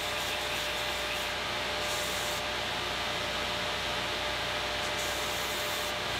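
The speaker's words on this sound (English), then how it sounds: "I'm using the top edge of the belt to sand the contour along the top edge." A belt grinder sands the top edge of a small wooden finger plane, a loud steady abrasive hiss and rub with slight shifts in tone as the wood is pressed against the belt.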